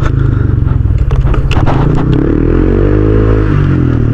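A Honda Click 125i scooter with an MT8 racing exhaust pipe revs hard at close range. A loud, raspy engine roar rises and settles into a steady throbbing idle.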